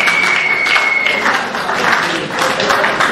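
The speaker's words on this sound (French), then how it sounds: "Applaudissez s'il vous plaît, félicitations." Ceremony audience applauding a named graduate, a full and steady wash of clapping from many hands with a faint tone running under the first second.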